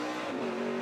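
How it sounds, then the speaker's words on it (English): A NASCAR Craftsman Truck Series race truck's engine holds a loud, steady high-rev drone as it bumps the rev limiter on the St. Petersburg street course, close and continuous with no talk. "Hear him bumping that rev limiter."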